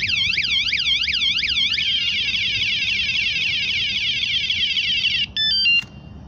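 A loud personal security alarm for belongings wails in a rapid warbling electronic siren, then holds a steady shrill tone before breaking into a few short beeps and cutting off.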